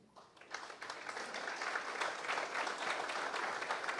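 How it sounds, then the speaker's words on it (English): Steady crowd applause at a state formation day celebration attended by a governor, rising quickly to a sustained, dense clatter of many hands that carries on evenly with no talk over it. "A big round of applause"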